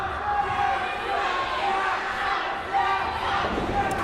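Dense, steady crowd roar fills a wrestling show venue, loud and continuous with swells of cheering and shouts, a few whistle-like tones rising above the din throughout.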